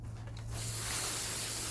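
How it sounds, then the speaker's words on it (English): A pepper plant's root ball being sprayed with pressurized water while repotting it for overwintering: a steady, close, broadband hiss that starts abruptly and continues evenly without pause. "now we're going to spray her down"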